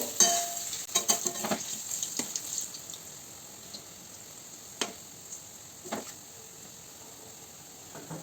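Pitha fritters (bora) sizzle as they fry in a pan, a steady crackling hiss with a few clattering stirs early on, then calmer, even frying.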